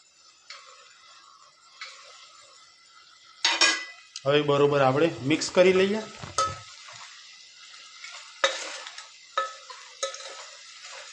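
Tomatoes stirred into a cluster bean curry in a pan, with a spoon scraping and clinking against the metal and light sizzling in short bursts, close up, plus a brief tonal squeak partway through.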